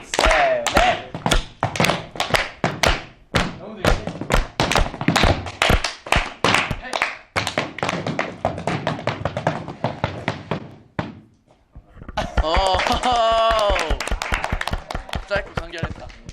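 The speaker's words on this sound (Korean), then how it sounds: "네, 제가 탭을 아주 조금 배웠는데 한번 해보겠습니다." Tap dance steps by a member of the rookie K-pop idol group ASTRO during an interview, a fast burst of sharp heel and toe taps followed by laughter and chatter.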